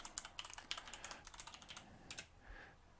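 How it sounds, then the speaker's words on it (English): Fast typing on a computer keyboard, a quick run of crisp key clicks up close that pauses briefly, then resumes with a few more taps, with no talk. "Terrible typing."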